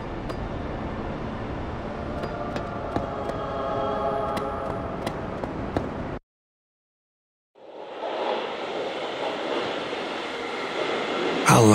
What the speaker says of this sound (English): I love this subway station.